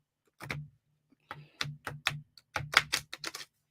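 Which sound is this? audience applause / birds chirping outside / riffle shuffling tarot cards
riffle shuffling tarot cards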